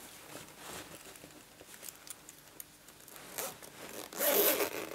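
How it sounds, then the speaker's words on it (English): A zip on an embroidered Stampin' Up pouch is pulled closed in short, close rasping strokes, ending in a louder, longer zip pull, with faint fabric rustling between the strokes. "Inside it's got a zip that does up,"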